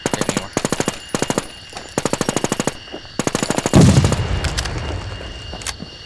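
Automatic weapon fire in the video game NewZ: rapid bursts of loud, close shots in several rhythmic volleys, ending with a heavier blast that trails off into rumbling noise.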